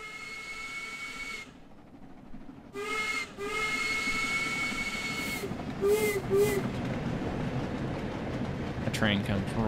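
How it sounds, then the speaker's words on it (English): A steam locomotive roars past a bridge edge with a hissing rush of steam, its whistle sounding in several short blasts over the loud continuous rumble of the train. "a train comes roaring by"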